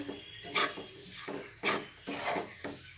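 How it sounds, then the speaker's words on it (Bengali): A spoon stirs semolina, mixed vegetables and a splash of water in a pan, making several soft scraping strokes in an irregular rhythm with a faint sizzle underneath, close and fairly quiet. "দিয়ে এটা নাড়িয়ে নিচ্ছি।"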